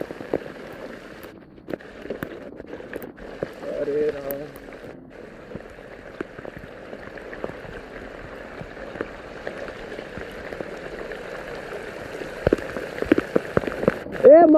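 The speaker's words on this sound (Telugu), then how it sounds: "మరీ దారుణంగా వర్షం అయితే పడుతుందండి" Heavy rain pours steadily onto surfaces at night near a flooded farm and an overflowing stream, a dense continuous patter close by, with a voice speaking faintly underneath at times.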